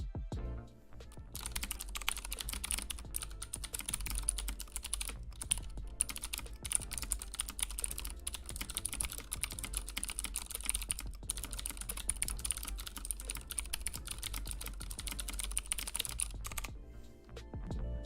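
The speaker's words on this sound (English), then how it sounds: "And here's a full-on typing test so you can hear the keyboard in action." Steady, continuous typing on a mechanical keyboard fills the whole stretch as a dense run of close, crisp key clicks, with no talking over it.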